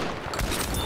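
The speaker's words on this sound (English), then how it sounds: "The shotgun is sick, dude." A 12-gauge automatic slug shotgun fired in Battlefield 5, a dense, loud burst of booming blasts that fills the whole short moment with broadband impact.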